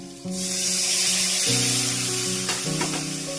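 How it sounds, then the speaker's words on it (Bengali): Water poured into frying spices for a fish curry erupts into a loud, continuous sizzle and hiss that holds steady, with faint clinks of a utensil toward the end. "এবার আমি একটু জল ঢেলে দিলাম"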